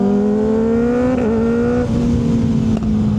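Kawasaki Ninja 636 sport bike with a quick shifter, its engine holding a steady high-pitched whine that climbs slightly and briefly dips at a shift, loud and close with no talk.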